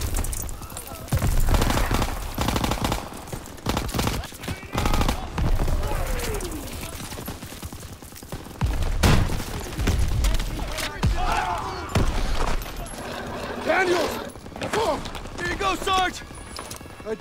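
Dense gunfire from Call of Duty WWII, rapid bursts of rifle and machine-gun shots laying down covering fire amid loud battle noise, with shouted voices mixed in.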